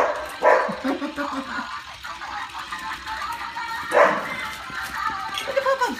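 Dogs bark and yip in short bursts close by, with whimpering sounds between, while a person talks over them.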